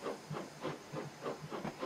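A Bulleid Q1 steam locomotive on the Somerset and Dorset line in Train Simulator 2015 hisses as it starts, with rhythmic pulsing chuffs of steam, fairly faint and alone.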